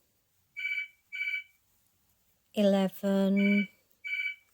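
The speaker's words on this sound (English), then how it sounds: "sorry about the phone guys" A phone rings nearby in short electronic trill bursts, four in all, while a voice counts crochet stitches in the middle.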